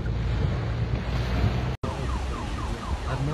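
Loud, steady rushing floodwater roars continuously down a street in Kyiv, broad and turbulent like a torrent close by, with a brief cut partway and a faint siren-like wail behind.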